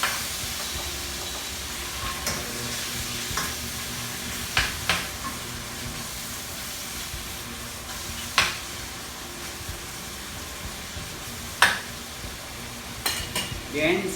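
Chopped chicken breast sizzles and hisses in a hot pan for a chicken Alfredo, with steady frying noise broken by sharp utensil scrapes and taps as a ladle stirs it now and then.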